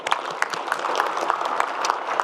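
A town hall audience applauds after a question to the president, a dense, steady patter of many hands clapping at moderate loudness for a couple of seconds with little talk over it.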